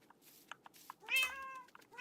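Cat meowing in Minecraft, a short series of soft clicks and then one clear, tonal, drawn-out meow, close and alone with no talking.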